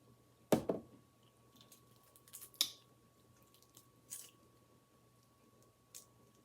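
Crunchy fried buffalo fish skin being chewed close to the mic, with sharp crisp bites and softer crunches scattered over several seconds in a quiet room.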